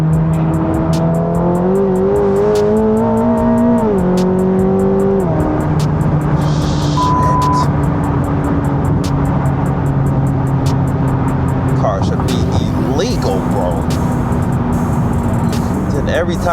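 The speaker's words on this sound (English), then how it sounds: "Every time you let off, the blow-off valve just sounds so lovely" Supercharged C8 Corvette ZR1 making about 1064 horsepower pulls hard through downtown Chicago streets, its exhaust rising and falling steadily with a loud blow-off valve release on lift-off, heard up close from inside the car.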